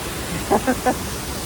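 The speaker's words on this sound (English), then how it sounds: "Okay, found the flowing water," Steady broadband rush of flowing water at the historic Henry River Mill Village in North Carolina, with a person speaking briefly over the constant wash.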